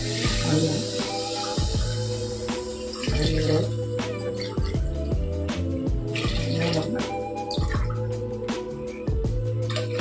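Ground coconut milk is poured into a cooking pot for vegetable pulao, giving close, uneven splashing and dripping with small clinks throughout, and no voices.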